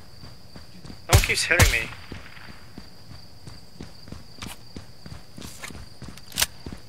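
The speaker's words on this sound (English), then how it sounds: "They're inside the warehouse, I hear footsteps." Enemy footsteps in a night close-quarters tactical shooter set around a small rail station warehouse, a soft run of steps under a steady insect-like hum, broken by a brief burst of close speech and a sharp transient near the end.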